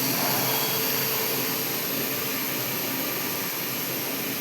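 Cutting machines in a forging factory give off a steady, loud, broadband whirring roar that holds constant without pause and without any talk.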